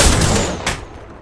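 Gunfire in the shooter game Apex Legends, a loud close burst of rapid shots with a sharp crack partway through, then fading into a decaying rumble.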